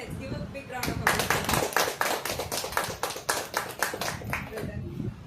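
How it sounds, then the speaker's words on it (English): A Toastmasters meeting audience claps in a sustained round of applause, many hands close by, lasting several seconds before fading slightly. "Let's give a big round of applause."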